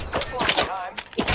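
Rapid bursts of gunfire in the shooter game Apex Legends, several sharp cracks clustered through a short stretch, loud and close, with a voice talking over part of it.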